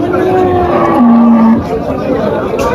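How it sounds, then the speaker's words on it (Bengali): A cow moos loudly and close at a cattle market in Faridpur, its low call sliding down in pitch, with crowd chatter murmuring in the background. "প্রচুর পরিমাণে গরু উঠছে হাটে"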